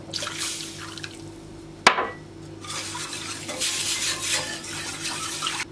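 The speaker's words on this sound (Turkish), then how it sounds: "Koyulaşana kadar karıştırıyorum." A spoon stirs flour and milk in a pot on the stove until the mixture thickens, giving soft wet sloshing and scraping over a low kitchen hum, with one brief clink near the middle.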